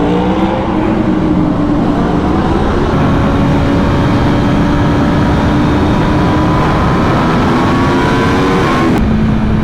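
A 2024 Aprilia RSV4 1100 Factory motorcycle engine revs steadily on a test ride, loud and close, its drone climbing in pitch under strong wind rush before dropping off near the end.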